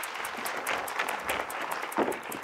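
A studio audience at a 1996 Russian televised lottery game show applauds a contestant, an even, continuous clatter of many hands heard at a low, distant level.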